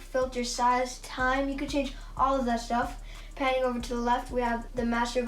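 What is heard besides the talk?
No distinct noise like a dog, phone or traffic.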